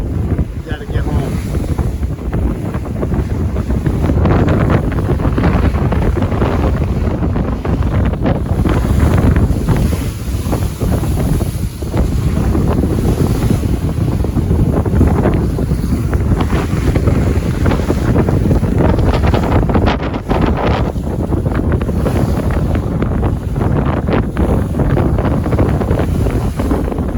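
Strong storm wind roars steadily across the microphone aboard a panga-type boat heading back out on the ocean, with rushing water and wave noise beneath, loud and continuous throughout.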